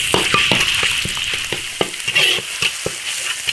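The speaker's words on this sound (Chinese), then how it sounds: "烧油炒肉末，肉末下锅，" Minced pork stir-fries in hot oil in an iron wok, with a steady close sizzle broken by regular scraping strokes of the spatula.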